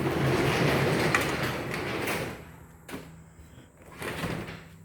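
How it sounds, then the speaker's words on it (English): A Clopay 10 by 12 garage door is pulled down, giving a loud, continuous rolling rumble that stops after a couple of seconds, followed by quieter rattles and a soft thud. "let me just pull the door all the way down"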